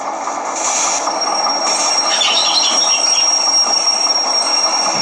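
A locomotive shunts along the rail track in a yard, rolling through points with steady wheel noise. A thin, high metallic squeal rings over the rumble, holding at a fairly loud level with no talking.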